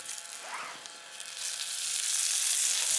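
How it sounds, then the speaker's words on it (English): Chorizo cooks in a pan over a campfire outdoors, a faint sizzle at first that grows into a loud, steady hiss of frying fat. "I'm just getting the chorizo cooked so I can use the oil to cook the the vegetables."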